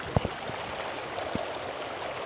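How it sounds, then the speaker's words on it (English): A small river runs along a roadside in Glencoe, Scotland, with a steady, close rushing flow. A few sharp knocks and taps break in near the start and again past the middle. "There's a nice little river here. The first bit of water."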